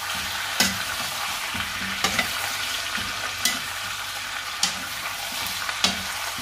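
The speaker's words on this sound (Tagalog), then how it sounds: "Lalagay na natin yung ating chicken legs" Chicken legs frying in a pan with aromatics for ginataang manok, a steady close sizzle broken by regular sharp scrapes and clacks of a spatula stirring roughly every second.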